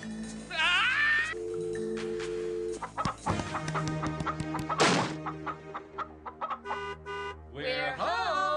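A cartoon chicken clucks and squawks in short bursts mixed with playful cartoon sound effects, tooting tones and music stings. The sounds are loud and close, with no steady talking.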